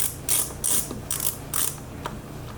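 A ratcheting hand tool backs out screws on a Honda S2000. Four or five quick bursts of clicking come in a steady rhythm, close and moderately loud, with no voices.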